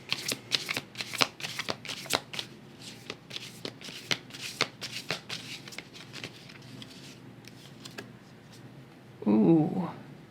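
Tarot cards shuffled by hand in a quick series of crisp riffling bursts and soft flaps, close and clear, followed by a brief louder rustle near the end.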